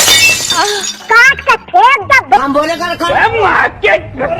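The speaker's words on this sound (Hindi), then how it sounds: "कुल्हाड़ी मारते ही शीशे की तरह टूट जाती है।" In a cartoon, an axe strikes a tree and shatters like glass. A bright burst of breaking opens the sound, followed by animated voices talking and exclaiming loudly.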